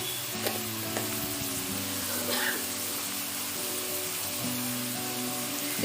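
Finely chopped tomatoes fry in a pan with onion and green chili for a drumstick dhal. A close, steady sizzle carries some stirring scrapes, with a faint tonal hum in the background.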